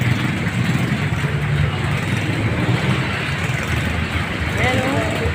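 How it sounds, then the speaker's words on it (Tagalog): Steady road traffic with engine rumble and tyre hiss through a continuous wash of heavy rain during a typhoon, with a voice speaking over it near the end. "Traffic po talaga o."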